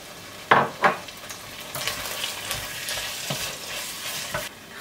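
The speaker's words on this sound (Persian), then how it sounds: "خب یه مقدار که رب و تفت داریم، ادویه هایی که داشتیم رو به خورشتمون اضافه میکنیم." Tomato paste and spices fry and sizzle in a pan for a Persian stew, with steady hissing and a few sharp spoon scrapes and stirring knocks close by.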